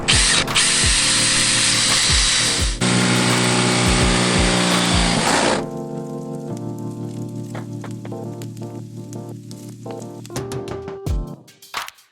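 A power tool cuts a window opening through the sheet-metal wall of a Ford Transit van, loud and continuous for about five seconds, then dropping to a lower steady whine with scattered clicks and knocks as the cut continues.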